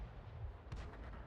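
A single tank gun shot in a video game, a sharp boom with a brief rumbling tail over a low background hum.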